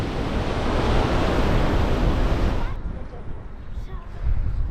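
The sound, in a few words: strong wind and sea waves on coast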